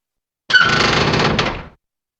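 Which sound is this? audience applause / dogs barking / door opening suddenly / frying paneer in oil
door opening suddenly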